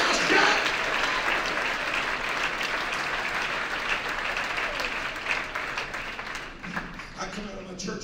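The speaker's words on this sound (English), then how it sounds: "clap your hands all over this place" Convention crowd applauding at a Christian gathering: dense, sustained clapping from many hands filling the hall, loud at first and gradually thinning out toward the end.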